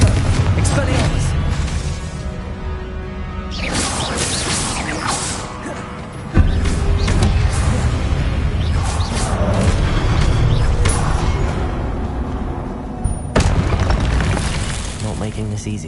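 Spell blasts, explosions and booming magical crashes from a Hogwarts Legacy duel fill the soundtrack with loud bursts and whooshes. A player shouts spell names over the din.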